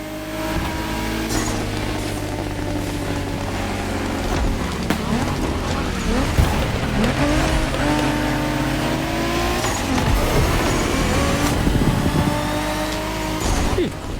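Racing cars in The Crew Motorfest: loud engines rev and shift through gears continuously, with intermittent tire squeals and passing whooshes layered in a busy, sustained roar.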